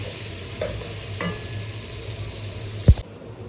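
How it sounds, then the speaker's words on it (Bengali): Chopped onion frying in a pan until lightly browned, a loud steady sizzle with light stirring scrapes and one sharp knock near the end before it drops away. "দিয়ে দিচ্ছি পেঁয়াজ কুচি, একটু হালকা ব্রাউন করে নিলাম"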